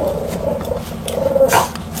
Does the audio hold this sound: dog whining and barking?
yes